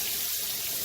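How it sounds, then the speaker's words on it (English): Frying oil poured off a pan of cooked shrimp while making shrimp pasta, a steady close hiss and trickle of liquid running throughout without pause. "Now I'm just gonna drain all that oil that's right here."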